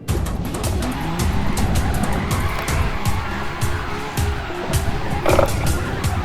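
Tires squeal and skid as a car spins out while drifting in a racing video game, a loud, continuous screech over engine noise with no speech.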